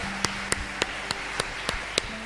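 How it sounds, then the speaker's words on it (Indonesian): Church congregation clapping during a sermon, sharp evenly spaced claps in a steady rhythm, about eight in a row, fairly faint over a low sustained tone. "Tepuk tangan padaku."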